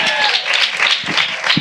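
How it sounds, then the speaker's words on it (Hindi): An audience at a Hindi-language sermon claps and applauds steadily throughout, with a dense, even wash of clapping that stays loud from start to finish. "ताली तो ऐसे बजाते हो प्रचार बंद हो जाता है मेरा"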